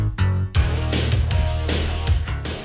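The Top Gun theme playing as a dense, loud rock track with driving bass and repeated bright crashes, heard alone without voices.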